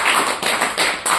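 Loud claps from an audience at a church sermon, about three bursts of sharp clapping in quick succession, close and prominent with no talking.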